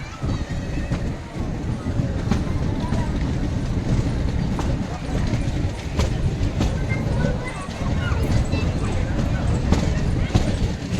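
A Junagadh–Sasangir–Delvada metre gauge train rolls along in drizzle, its steady rumble and rhythmic clacking of wheels on rails continuous and close, with people talking over it.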